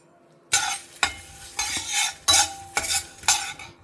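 Lentils and spices dry-roasting in a pan for an Ugadi lunch, stirred in about seven sharp, scraping strokes with a light sizzle between them, close and alone.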